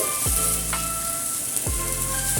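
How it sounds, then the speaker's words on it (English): Purple onions stir-fried in a hot pan for a Chinese lamb burger filling with ground Sichuan pepper: a steady bright sizzle throughout, broken by a few sharp clanks of a utensil against the pan. "Then add in purple onions. Stir fry everything."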